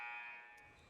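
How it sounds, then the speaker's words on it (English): A basketball game buzzer at a high school girls' varsity contest blares as a loud, steady electronic tone that gradually fades within a second. "Well, Dan, the buzzer sounds."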